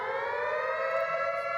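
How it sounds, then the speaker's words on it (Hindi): A dam gate warning siren and hooters sound at Bisalpur Dam as the monsoon-filled reservoir prepares to open its gates, a steady sustained wailing tone holding level throughout. "ये सायरन हूटर्स आपको सुनाई दे रहे हैं, ये वो अलार्म है"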